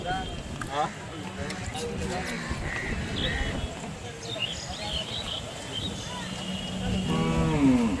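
Bulls moo repeatedly at the busy Chalisgaon cattle market, over a noisy outdoor background with people talking throughout and other animal sounds nearby.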